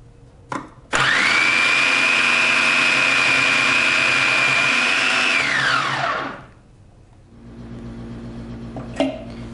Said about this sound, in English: So let's shred the cabbage.